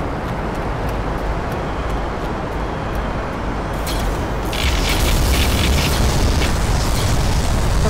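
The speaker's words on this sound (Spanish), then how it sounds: "Ahí explota." Explosion in the video game Black Mesa, Xen chapter during the Nihilanth finale: a dense, continuous rumbling roar that swells louder midway and keeps booming to the end, with no voice.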